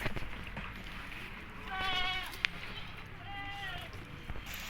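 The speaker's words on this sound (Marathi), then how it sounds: "बघा हे सोजतचा बोकड" Sojat breed Rajasthani buck goat bleating at a farm sale, a couple of short wavering bleats heard at moderate distance beneath ongoing talk and background noise.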